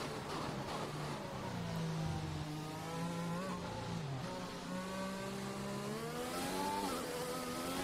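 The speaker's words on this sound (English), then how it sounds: "Oh, a bit of a tyre spin." An F1 car in the F1 2021 racing game at the Belgian Grand Prix at Spa: a loud, continuous, rising and falling engine howl as the rear tyres spin under acceleration, steady and close.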